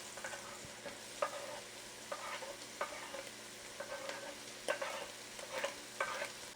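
Meat frying in butter in a pan, a soft steady sizzle with regular scraping strokes of a utensil pushing the meat aside, fairly quiet and close.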